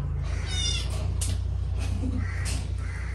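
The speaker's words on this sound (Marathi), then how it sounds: "कशाला तर मांजरीला त्रास देतोय" A small kitten gives a few short meows, some fairly loud and near, over a steady low engine-like hum.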